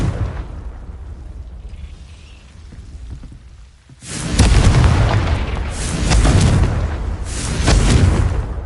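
A Confringo fire spell detonates in the Hogwarts Legacy video game, a loud booming blast erupting partway through and followed by sustained crackling, rumbling bursts that swell and fade in waves.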